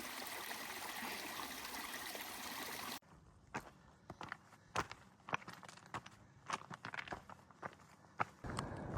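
Flowing stream water runs steadily beside a hiking trail on the Pacific Crest Trail near Snoqualmie Pass, then gives way to close, irregular footsteps crunching along the path with faint water behind.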